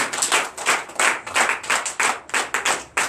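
A church congregation at a Sunday worship service in Benin claps in rhythmic, steady beats, a loud continuous series of sharp handclaps with no talking over it.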